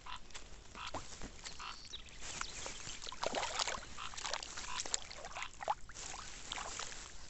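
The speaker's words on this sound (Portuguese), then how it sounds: "E aí o som dos sapos" Frogs croak in a rain-filled rural pond after rain, many overlapping calls at moderate distance with irregular rhythm and faint trickling water beneath.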